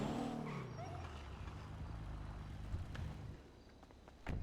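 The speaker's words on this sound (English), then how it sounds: "Parking my car." A car engine runs steadily while driving in a video game, with low rumbling throughout and a few sharp clicks and thumps near the end as it pulls in to park.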